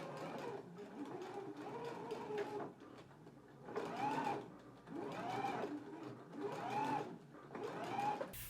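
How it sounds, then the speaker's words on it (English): A sewing machine bastes ties onto a bodice for a McCall's 7810 garment, running in several steady bursts of stitching separated by short pauses, close and fairly loud. "we can go ahead and baste them onto the bodice"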